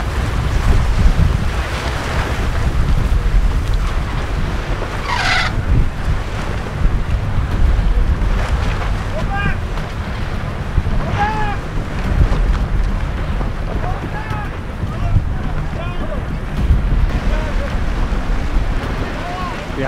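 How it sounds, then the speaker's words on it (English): Strong wind roars into the microphone as waves rush and slap around a J30 sailboat racing in a freshening breeze, a constant loud wash lasting throughout, with faint voices briefly surfacing. "Seems like people weren't quite prepared for this breeze to pipe up, but it is coming in strong."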